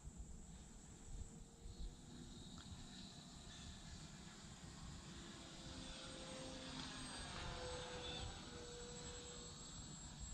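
Small Tower Hobbies Cherokee electric RC plane flying overhead, its faint motor and propeller whine drifting and shifting in pitch as it passes, with a soft rush of wind in the background.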